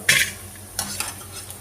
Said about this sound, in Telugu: ఈ విధంగా అన్ని కాకరకాయ ముక్కలు ఇలా ఫ్రై చేసుకోవాలి